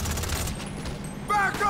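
Rapid gunfire from the Mercenaries DLC video game, a dense burst of shots that fades and then returns loudly near the end, with a voice underneath.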